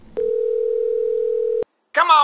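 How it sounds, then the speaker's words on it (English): A telephone ringback tone on an outgoing call: one steady, unbroken tone lasting about a second and a half, followed after a short pause by a brief voice. "All right, it's ringing."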